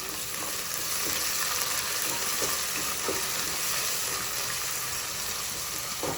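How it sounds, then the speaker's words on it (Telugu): Sliced onions frying in a pan with green chillies, fenugreek, curry leaves and mint for a country chicken pulusu, giving a continuous even sizzle with occasional faint stirring clicks, close and steady with no talk. "ఆనియన్ వేగుతున్నాయి ఇప్పుడు ఇందులోనే మెంతి కరివేపాకు పుదీనా వేసి ఇవి కూడా వేయించుకోవాలి"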